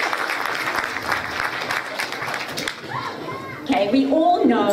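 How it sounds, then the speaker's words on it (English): Clapping from an audience of parents, grandparents and children at a Grandparents Day event at a Jewish day school, a scattered burst of claps fading after a few seconds as a voice and chatter take over. "Go ahead, clap."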